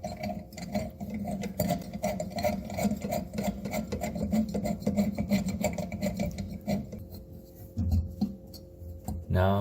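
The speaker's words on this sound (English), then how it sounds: "Now I'm going to put the screw in." Screw being driven into a sink basket strainer during installation, giving a steady rasping, grinding scrape of metal turning against metal with short pauses and a few light clicks, close up and with no voices.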